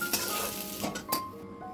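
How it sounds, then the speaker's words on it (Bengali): Paneer made from bottle gourd fries lightly in oil, sizzling close and steadily while a spoon stirs it with a few scraping clinks over less than two seconds. "তো এবার একটু সামান্য হালকা করে ভেজে নেব"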